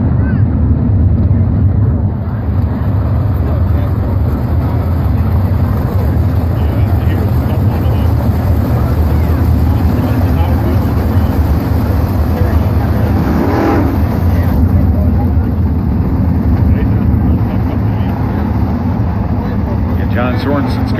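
Sprint cars at a NOSA feature race at River Cities Speedway roar steadily around the track, a loud continuous engine drone with a brief swelling pass midway, under an announcer's talk.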